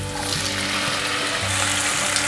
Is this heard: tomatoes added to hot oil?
yes